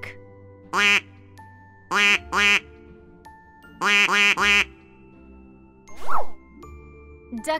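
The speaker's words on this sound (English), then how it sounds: "Duck." Duck quacks come in clipped bursts of one, two and three close, loud calls separated by quiet gaps, with a soft chime and a brief swish near the end.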